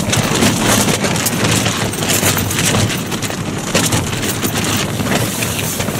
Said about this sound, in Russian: На Таймыре очень сильные ветра.